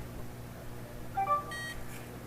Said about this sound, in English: hopefully the LEDs on this reader will light up and it will beep.